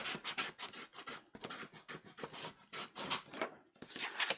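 Paper being burnished down on an altered file folder, a dry rubbing rasp in quick repeated strokes, close and steady with short pauses between passes.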